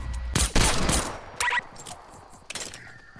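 Video game gunfire comes in short loud automatic bursts, followed by a few fainter shots and game effects, with no voices.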